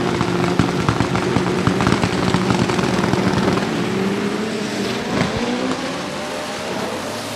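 Powerful drag racing cars roaring down a 200-meter strip, a loud continuous engine blare with rising pitch throughout, heard alone and close.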